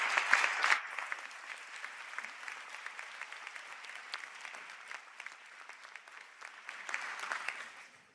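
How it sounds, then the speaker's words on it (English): An audience at a university conferring ceremony claps steadily, a dense patter of many hands that swells at the start and again near the end. "We give a round of applause to those in absentia"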